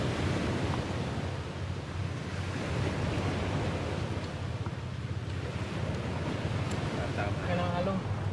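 Rough sea waves surging around a small fishing boat off Marinduque, a steady broad wash of water and wind noise close to the microphone, with faint voices near the end.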